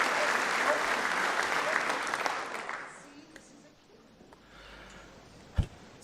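A crowd bursts into loud, dense applause for about three seconds, then it fades to a quiet murmur with a single sharp knock near the end.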